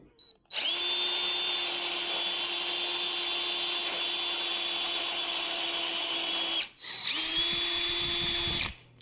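A power drill bit boring slowly during a DIY upgrade on a Porsche 911, with a loud steady whine that runs for about six seconds, stops briefly, then starts again for another two seconds, with no talking.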